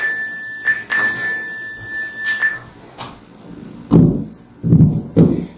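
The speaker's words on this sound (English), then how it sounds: "closing in on those beeps." An electronic workout timer beeping, a high steady tone broken into several short pulses over the first half, followed by a few heavier thumps.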